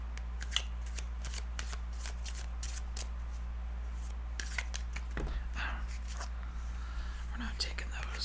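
An oracle card deck is shuffled by hand at close range with quiet, repeated papery riffles and soft flicks, a low steady hum underneath and faint whispery sounds.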